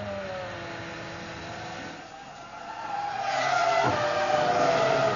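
A Formula 1 car from 2003 pulls away from a pit stop at the French Grand Prix, engine note rising as it accelerates and a brief tire squeal, the whine climbing loudly toward the end.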